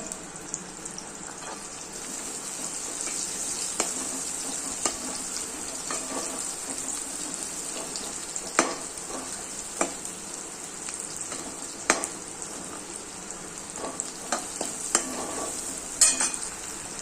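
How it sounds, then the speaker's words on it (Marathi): Onion sautéed after garlic in a pan for a spicy matki curry, making a soft, steady sizzle with regular scraping and tapping stirring strokes throughout, close by and fairly quiet. "मस्त छानपैकी परतून घेऊया कांदा"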